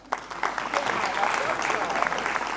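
Steady applause from a group, a dense patter of clapping that starts suddenly and holds at an even level throughout.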